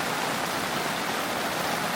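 Heavy rain pouring down onto a camping awning during a thunderstorm in a French forest, a steady, dense roar of drumming water with no pauses.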